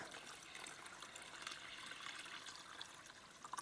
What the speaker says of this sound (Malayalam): ഇനി നമുക്കിത് അരി കുതിരാൻ വേണ്ടിയിട്ട് കുറച്ച് വെള്ളം ഒഴിച്ച് വെക്കാം